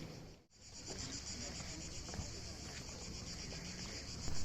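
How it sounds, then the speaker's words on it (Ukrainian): Cicadas in summer in Rovinj, Croatia, keeping up a continuous high buzzing drone, faint and steady from start to finish, with a low murmur of background activity beneath. "Улітку тут куди б не йшов, де б не був, скрізь чути стрекіт цикад."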